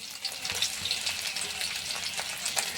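A fish fry sputters in a hot pan after being turned, a close, busy sizzle with bright crackling spits running evenly throughout, no speech.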